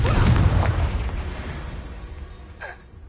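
Spell blasts from Bombarda and Confringo in the video game Hogwarts Legacy: a heavy booming explosion up front that rumbles and decays over a few seconds, then a short whooshing burst near the end, with no talking.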